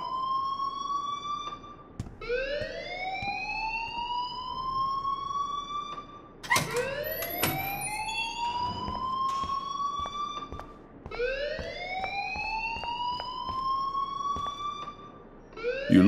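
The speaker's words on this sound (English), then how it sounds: "please turn off that alarm since that's your job" Repeated wailing electronic alarm in the video game Life Is Strange, rising sweeps that climb and hold, cycling about every four to five seconds, loud and steady with a few sharp clicks between cycles and no talking.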